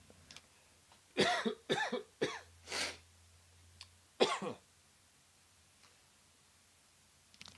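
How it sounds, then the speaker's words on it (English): A series of close, dry coughs in quick bursts, then one more cough after a pause, in an otherwise quiet room. "I have to cough here."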